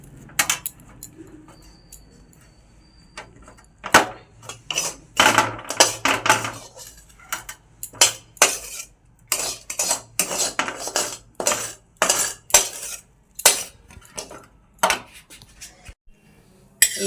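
A kadai is set on the stove amid loud, close metallic clatter of utensils in a kitchen, with irregular bursts of clanks and scrapes and short quiet gaps between them.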